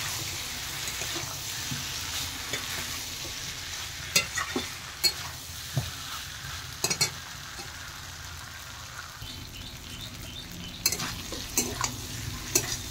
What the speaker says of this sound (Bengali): মশলার সাথে কিন্তু বেশ ভালোভাবে কষিয়ে নিতে হবে।